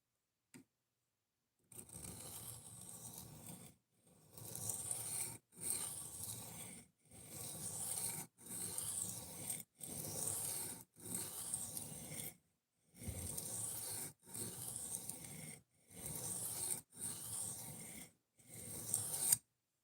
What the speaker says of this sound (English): I just suck at sharpening kitchen knives.